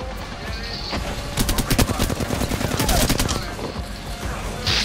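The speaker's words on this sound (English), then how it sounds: "I unload a mag into his head" Rapid gunfire in the battle-royale shooter Apex Legends, a burst of sharp automatic shots fired in quick succession, loud and close over game background sound.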